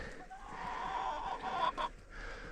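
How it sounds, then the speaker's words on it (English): Chickens cluck softly and steadily in a farmhouse coop on a snowy day, with a few sharper, higher clucks near the middle, heard close and without talk. "So mentioning chickens, here we have this first group."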